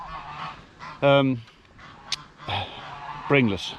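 Geese on a farm honk loudly in two harsh bursts of repeated calls, with a voice speaking briefly between them amid outdoor background noise.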